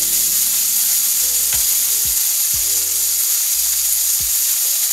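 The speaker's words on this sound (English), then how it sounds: "we got that bacon going pretty good here. Trying to render that fat" Bacon frying in a pan to render its fat, a steady close sizzle and crackle with a few sharp pops and low clunks of the pan, no talking.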